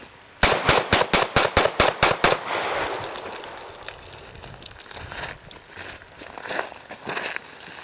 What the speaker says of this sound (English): I'm going to shoot these 9 rounds.